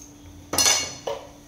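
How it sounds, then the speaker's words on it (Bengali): A knife cuts potatoes with two sharp metallic clinks against a hard surface: one strong strike with a short ringing tail, then a softer second tap half a second later, in a quiet room. "এই যে দেখতে পাচ্ছেন আলুটাকে কেটে নিচ্ছে এদিকটা"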